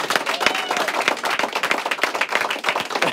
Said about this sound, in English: Another round of applause for Tony, ladies and gentlemen.